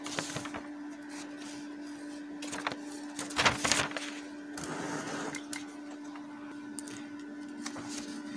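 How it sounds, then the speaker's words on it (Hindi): An HP LaserJet 2300 laser printer runs its self test, with a steady mechanical hum, whirring rollers and intermittent clicks and clacks as a page feeds through, close and alone. "उसने जो है HP लेजर जेट 2300 प्रिंटर का जो सेल्फ टेस्ट है हमें करके दे दिया"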